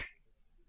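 A single crisp finger snap rings out at the start, then fades into near silence.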